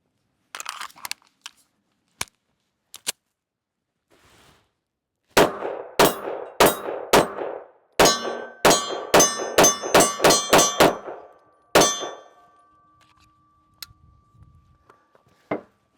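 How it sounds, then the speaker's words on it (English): A Taurus GX2 pistol fires a 13-round magazine outdoors. A few spaced shots are followed by a rapid string of sharp, loud cracks with ringing metallic tails, then a final shot. "So let's shoot the other 13 round mag"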